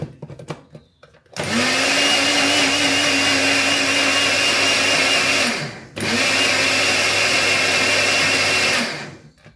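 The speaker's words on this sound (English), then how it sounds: "we're going to give it a blitz in the blender" A blender whirs loudly at a steady high pitch, running in two long bursts with a brief pause between them, close up.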